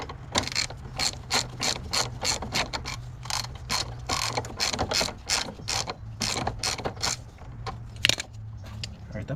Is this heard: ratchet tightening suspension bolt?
yes